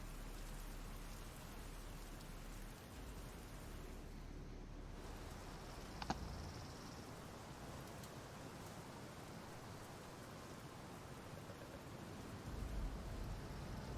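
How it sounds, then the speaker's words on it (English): Steady rain with a soft hiss and patter on a Path of Exile loading screen, even and constant with a faint low rumble, quiet and with no talking. "It's even raining in the loading screen."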